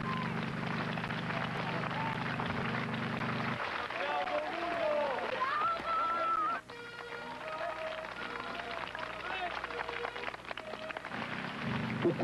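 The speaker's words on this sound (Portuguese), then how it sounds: "O som das sirenes dos batedores do carro fúnebre se confunde com os aplausos, até o momento em que os aplausos vencem." A crowd applauding in the street as a funeral cortege passes with escort sirens: dense, continuous clapping at a distance, with wailing siren tones rising and falling above it.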